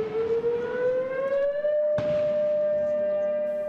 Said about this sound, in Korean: 사이렌 소리가 울리자